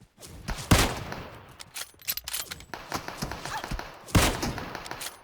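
Bursts of gunfire in PUBG Mobile, a loud volley near the start and another near the end, with scattered shots and thuds in between.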